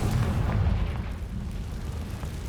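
A Confringo fire spell blasts in Hogwarts Legacy, a deep booming burst at the start that rumbles on with a long low roar as it fades.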